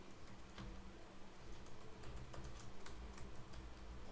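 Rapid typing on a computer keyboard while entering Java code, a dense run of close, light key clicks with no talking.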